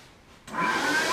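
A vacuum cleaner switches on partway through and runs steadily with a loud, broadband whine and a couple of sustained tones.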